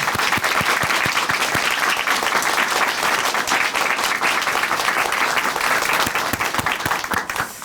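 A church congregation breaks into loud, dense applause during a testimony program, many hands clapping close and bright in a sustained roar that thins slightly toward the end.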